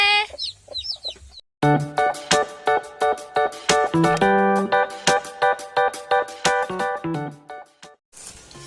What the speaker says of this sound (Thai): ไก่ลงมาแล้วนี่บ่มีซุ่มขังไก่